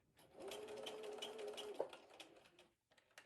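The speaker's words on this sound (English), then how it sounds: "I just want to back stitch a few stitches to make up for some of the basting I did" A sewing machine back-stitching a seam on a cross stitch portfolio bag runs in a fast, close, steady burst for about two seconds, stops briefly, then starts again.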